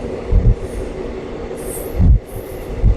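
The Nagarsol Superfast Express rolls along the rails with a steady rumble, broken by heavy rhythmic thumps from the wheels at rail joints and brief high metallic squeals.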